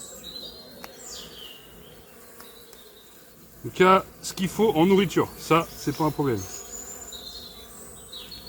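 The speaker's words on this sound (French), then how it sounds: "Bon, là on les entend un peu s'énerver, mais c'est normal, il y a des fourmis qui se baladent dans la ruche." Honeybees agitated by ants wandering in their hive hum and buzz continuously in the background, while someone speaks clearly over them partway through.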